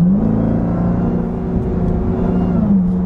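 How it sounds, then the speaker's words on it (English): A 2021 Dodge Durango SRT Hellcat accelerates, its supercharged engine giving a steady, loud whine over a deep rumble that rises and holds close throughout. "I love hearing the whine of that supercharger."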